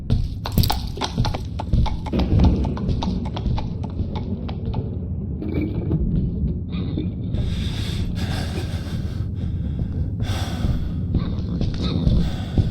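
Horse hooves clip-clop steadily on a hard surface amid rustling, wind buffeting and occasional snorts, fairly loud and close.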